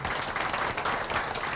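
Dense applause from the audience at the annual Cap to Cap conference, steady and fairly close, filling the whole short stretch without any talk.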